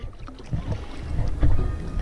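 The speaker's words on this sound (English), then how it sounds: "I'm doing the paddling and Amber's being lazy." Paddles dip and splash as a small boat moves along a creek, with a few irregular sloshes and wind buffeting close to the microphone. No one speaks.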